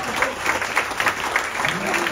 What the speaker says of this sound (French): un maximum d'applaudissements pour Marie